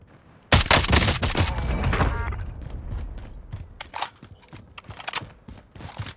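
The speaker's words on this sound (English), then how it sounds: "They're shooting from up top?" Gunfire in a shooting video game, a sudden loud volley followed by scattered sharper shots and thuds trailing off over several seconds.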